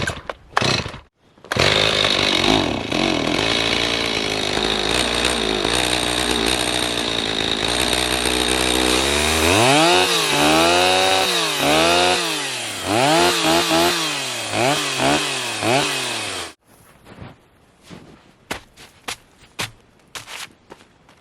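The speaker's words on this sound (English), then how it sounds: "I haven't started this saw since last fall, so let's see how she rips." A chainsaw, unused since last fall, is pulled over and fires up near a cold off-grid cabin, then roars loud and steady before revving up and down in repeated surges and cutting off, with a few faint knocks afterward.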